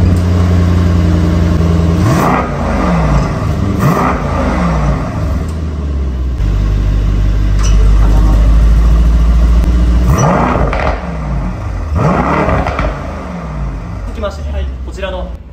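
A Mercedes-AMG E63s with the Night Package and blacked-out exhaust revs loudly several times, each blip rising and falling in pitch, with a steady idle rumble between the bursts.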